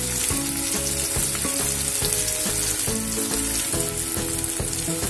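Homemade spice masala with garam masala fries with sprouted field beans in a pan. A dense, continuous sizzle runs under quick repeated stirring knocks, close up and fairly loud, with no speech.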